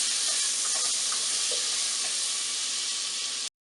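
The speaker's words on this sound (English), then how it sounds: "I'm just going to allow the margarine to melt into the oil." Vegetable cooking margarine melting into hot oil in a pan, giving a steady, even sizzle and hiss with a few faint pops, then stopping abruptly.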